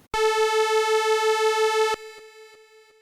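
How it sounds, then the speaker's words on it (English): Two slightly detuned sawtooth oscillators on an analog synthesizer forming a supersaw, a loud buzzy sustained tone with shimmering beating that cuts off abruptly, leaving a faint ringing tail. "those 2 sawtooth waves are actually slightly detuned"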